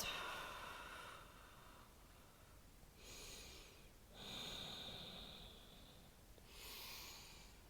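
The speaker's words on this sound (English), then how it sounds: "Nice deep breaths." Slow, deep breaths drawn in and let out through the nose during a gentle hatha yoga hand-to-big-toe pose, three or four soft, airy cycles, close and quiet, with no talking.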